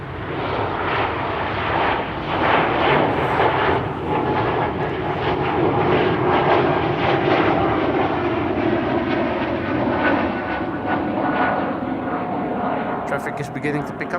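Embraer E2 jet at Amsterdam Schiphol Airport, a broad steady engine rumble holding throughout at moderate distance, with a voice speaking over it.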